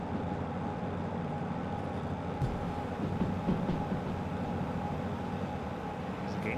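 A train in the Derail Valley video game climbs uphill with a steady, heavy low rumble of engine and wheels, continuous and fairly quiet throughout.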